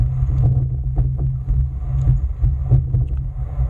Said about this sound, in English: the wind's blowing hard today